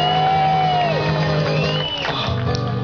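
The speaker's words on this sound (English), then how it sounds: "since you're all out there screaming anyway" An audience at a Chip 'n' Dale campfire sing-along show cheers and screams loudly, a dense crowd roar with high whoops carrying on continuously throughout.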